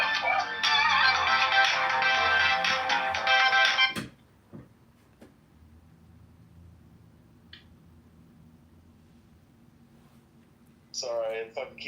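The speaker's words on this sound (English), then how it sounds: "Sorry, if I can keep getting phone calls." A telephone ringtone chimes loudly and steadily for about four seconds during a podcast conversation, then cuts off abruptly, leaving quiet room noise with a few soft clicks before a voice starts speaking near the end.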